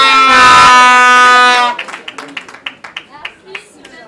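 At a civil wedding, a loud sustained horn-like tone gives way to scattered, sparse hand claps from the gathered guests, uneven and fading.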